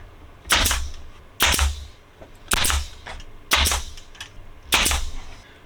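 Five sharp, spaced snaps of a staple gun driving staples through fabric into a board while lining the load area of a Land Rover Defender, each crisp and close with short pauses between.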